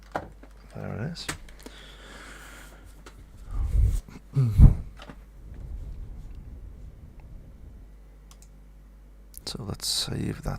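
Keyboard typing and clicking at a home computer setup, a few close clicks and key taps scattered among pauses and breathing, with a brief voice toward the end.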